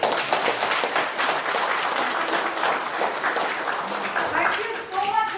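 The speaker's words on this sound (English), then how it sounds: "So a big round of applause to you people." Audience applause at an entrepreneurship and machinery innovation exhibition, sustained clapping from a crowd in a hall, fairly loud and even, tapering slightly before a voice starts speaking at the end.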